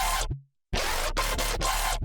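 A colour bass synth layered with a vocoder, widened in stereo, plays short, dense, gritty bursts of buzzing tone that are chopped into a stuttering rhythm, with a brief pause near the start.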